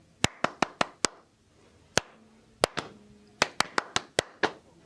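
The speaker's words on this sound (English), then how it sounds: "So if you're saying chicken is better with chips, can you clap that?" Close, crisp handclaps in a primary school music class tap out the syllables of a spoken phrase in uneven bursts: a quick run of five, single claps, then further tight clusters separated by short pauses.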